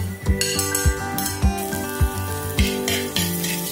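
Curry leaves, garlic, ginger and green chillies sizzle loudly in hot oil in a pan for a Kerala-style fish curry, with rhythmic clinks and scrapes of a spoon stirring against the pan.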